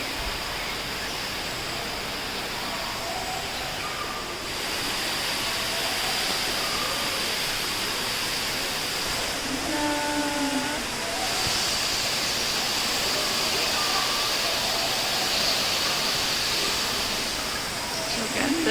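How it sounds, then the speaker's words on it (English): A steady, broadband rush of falling water from an indoor waterfall in a biodome fills the scene, constant and fairly close, with faint tonal chirps and a brief hum partway through. "And that waterfall."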